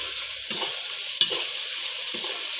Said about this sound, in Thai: เจียวให้แบบหอมกระเทียม หอมเหลืองนะครับ